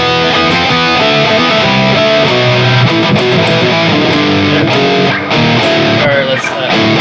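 Dense, distorted guitar with a pitch-shifted harmony line a seventh lower doubling the notes, sustained and loud throughout with no pauses.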